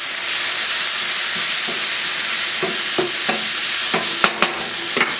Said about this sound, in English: I'm going to add our shallots and our garlic. Stir that up.